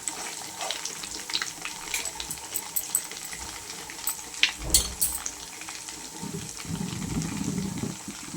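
Butter simmers in a pot as it cooks down into ghee, giving a crackling, spitting sizzle with bursts of sharper pops and a louder bubbling patch near the end, close by and with no talk.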